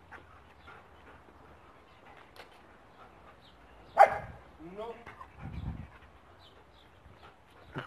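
A Belgian Malinois barks a few times at a Casablanca dog market, the barks brief and moderately close, set amid quiet background chatter and a faint bird.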